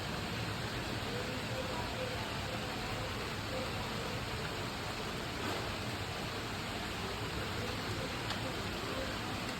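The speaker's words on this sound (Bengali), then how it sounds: "বন্ধুরা আবার বৃষ্টি শুরু হয়ে গেছে" Rain falls outdoors in a steady, even hiss that carries on without a pause. It is fairly loud and sounds broad, with no clear voices.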